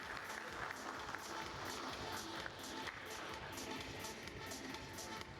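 An audience at a food industry summit claps steadily for several seconds. The applause is faint and distant, with the clatter of many hands and light crowd noise beneath it.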